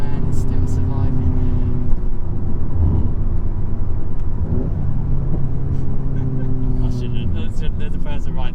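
A Volkswagen MK8 GTI Clubsport 45 drives along with a steady, close engine drone. The pitch climbs and then drops at a couple of gear changes as it upshifts, over constant road rumble.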